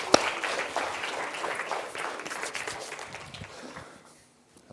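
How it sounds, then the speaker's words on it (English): Audience applause during a physics of colour lecture, a burst of many hands clapping that stays steady for several seconds, then thins out and fades to near silence at the end. "Let's give them a little round of applause."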